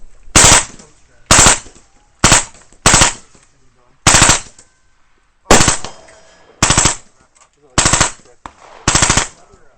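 A suppressed MP5/40 submachine gun in .40 caliber fires nine short, loud bursts at close range, each a rapid cluster of muffled cracks separated by brief pauses.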